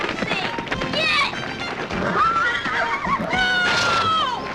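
A horse whinnies loudly in a 1979 television film, shrill neighing calls rising and falling twice amid a busy, noisy scene.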